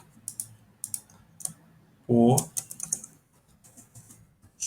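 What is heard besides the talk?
typing on a computer keyboard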